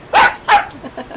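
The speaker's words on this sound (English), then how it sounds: "A parrot that growls like a pup." A parrot growls like a dog in two short, loud, rough bursts, followed by a softer trailing grumble.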